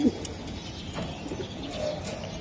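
Soft low cooing from a grizzle pigeon, faint and intermittent over a constant background murmur, with no talking.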